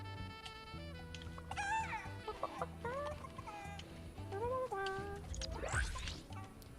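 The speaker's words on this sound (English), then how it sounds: "Hey, chicken." A video game chicken clucks and squawks repeatedly over a steady game music bed, with scattered thumps and a crash, fairly loud and busy throughout.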